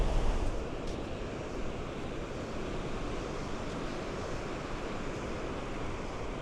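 Surf along Porthcawl beach in Wales, a steady broadband wash of waves mixed with wind buffeting the microphone, slightly louder at the start and then even and moderately quiet.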